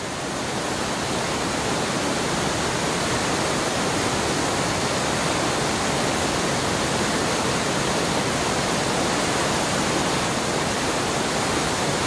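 Bubbling, falling mountain water in a Mongolian valley roars as a dense, continuous wash, loud and unbroken like a close waterfall, with no other sounds.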